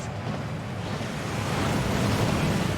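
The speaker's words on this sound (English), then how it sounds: "That waterfall washes away all enchantments." Continuous rushing roar of the Gringotts waterfall in the game Hogwarts Legacy, a dense steady wash of falling water that swells slightly louder toward the end, with no talk.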